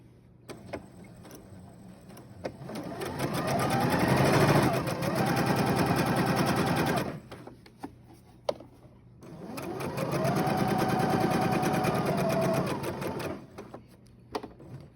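A sewing machine runs a straight stitch along the edge of a fabric face mask in two bursts of rapid, steady mechanical chatter, each lasting several seconds, separated by a short pause with small clicks.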